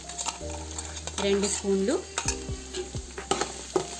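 Green chili and coconut paste frying and being stirred in a pan for an Andhra-style chicken biryani, with steady sizzling, scraping spoon strokes and clinks, and a brief spoken phrase over it.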